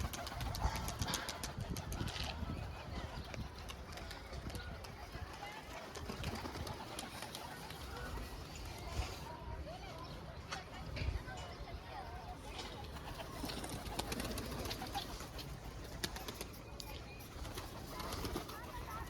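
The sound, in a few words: pigeons cooing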